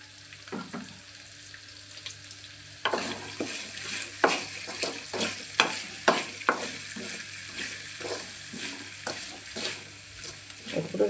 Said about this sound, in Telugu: కొద్దిగా సాల్ట్ వేస్తే వేగిపోతాయి త్వరగా.